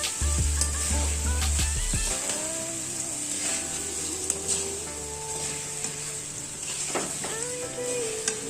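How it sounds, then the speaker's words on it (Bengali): Sago stirred together with dal and vegetables in oil in a pan for a vegetarian khichuri: a steady close sizzle and frying hiss with scraping stir strokes, no voices. "ভালো করে সাবু ডাল তরকারির সাথে ভালো করে মিক্স করে নেওয়া হচ্ছে।"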